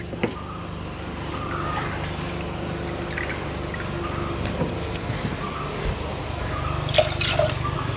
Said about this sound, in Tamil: இன்னும் 1 கிளாஸ் கூட தண்ணி ஊற்றணும்.